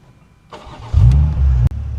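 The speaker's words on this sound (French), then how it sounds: "et là vous avez immédiatement le 6 cylindres BMW qui démarre" A BMW six-cylinder engine in a Morgan Plus Six cranks and fires up with a loud burst, then settles into a deep, steady rumble close by.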